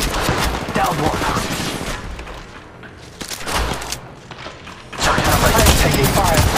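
Rapid gunfire in the Apex Legends Mobile battle royale game, with dense bursts of automatic fire and game effects through most of the clip, a brief lull near the middle, then heavier shooting at the end.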